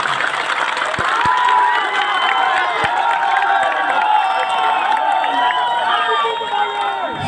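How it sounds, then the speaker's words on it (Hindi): Large crowd at a political rally in Azamgarh cheering and applauding loudly and steadily throughout, with dense overlapping shouts and clapping filling the scene. "तो इनके नाम पे जोरदार तालियां आप बजाइए"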